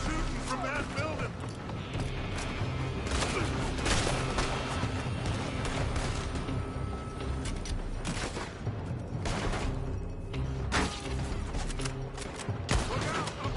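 Gunfire in Red Dead Redemption 2, a shootout from a building: repeated sharp shots and booming cracks ring out over a busy, noisy scene, with voices speaking amid the fire.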